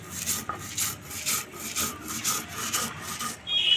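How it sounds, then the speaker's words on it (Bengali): Whole spices being ground by hand on a flat grinding stone, a steady rhythmic rasping scrape repeating about twice per second, close and moderately loud with no voices. "এদিকে মশলাগুলো আমি বেটে নিচ্ছি।"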